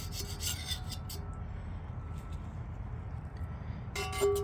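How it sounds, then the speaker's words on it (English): Scraping at rust on a cast iron skillet during restoration, a few short gritty rasping strokes at the start and end with quieter low rumble between, close and moderate in level. "I'm gonna scrape on this for a minute"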